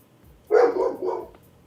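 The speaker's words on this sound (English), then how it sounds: "And there go the dogs." Dogs bark in a short burst of two or three loud barks close together, set against near silence, during a severe thunderstorm in Kansas.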